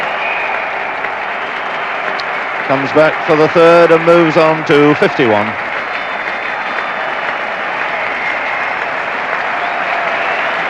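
Steady applause from England cricket fielders at the Oval runs throughout, with a commentator's voice speaking over the middle of it.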